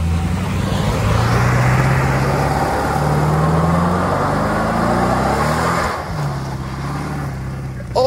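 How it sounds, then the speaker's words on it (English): A 1980s Mercedes limousine does a burnout, its engine roaring loud and steady with rising revs and a tire-squeal whine throughout, easing briefly near the end before revving again. "Wasn't exactly a drift, but that was not a bad burnout"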